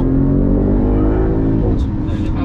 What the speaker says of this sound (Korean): 더 카랑카랑하고 깊은 엔진음이 4기통, 6기통 이런 차랑 비교되지 않게 8기통만의 그 그르릉 하는 소리가 인상적이더라고요